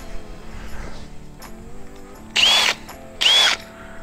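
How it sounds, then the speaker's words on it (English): Two short bursts of a power drill biting into a pipe, each lasting under half a second, separated by a brief pause, over quiet background noise. "I'm just gonna drill a ton of holes until there's no pipe left."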